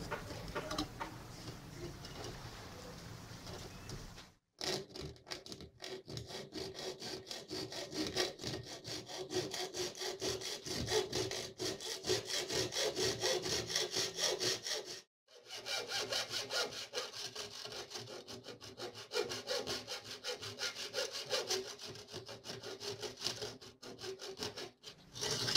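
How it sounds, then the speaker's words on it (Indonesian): A hacksaw cuts through a marked PCB board in steady rapid back-and-forth strokes, close and clear, with two short pauses between bursts and no talk. "PCB-nya sudah digaris, kemudian kita potong menggunakan gergaji besi ini."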